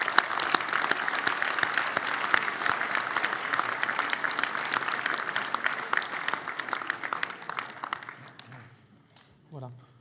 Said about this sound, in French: C'est un geste bien conséquent qui mérite quelques applaudissements